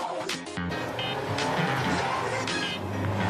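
A Lancia Delta HF Intégrale, the 1980s rally car, is driven hard on a winding road: the engine revs and roars loudly through the gears, with tire squeal and a brief lift-off gap, close and dominant.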